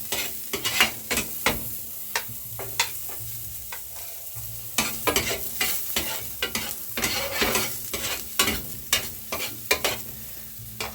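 Chopped garlic sautés until golden in a pan after ginger for Visayan tinola. A spatula scrapes and knocks in quick, irregular bursts over a steady low sizzle, close and fairly loud.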